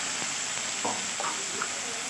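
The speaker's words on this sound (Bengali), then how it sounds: "এবার পেস্ট করে রাখা মশলাটা আমি দিয়ে দিলাম।" Ginger, garlic, chilli, onion and tomato paste hits a hot pan after fried peas, giving a steady bright sizzle with a few soft stirring scrapes and clatters, close and moderately loud, no talking.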